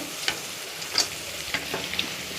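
Chicken stirred into a cooked tomato curry, giving a steady low sizzle with a few sharp scraping clicks of the spoon against the pan, close and fairly quiet, with no voices.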